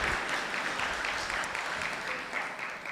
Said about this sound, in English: So a round of applause again for all our scholars and the board members of the Global Scholars Foundation.